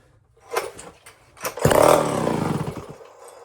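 A Homelite Zip chainsaw being choked and pulled over, with a few short cranking rattles followed by a rough burst of engine noise that sputters on close by for a second or two before dying down.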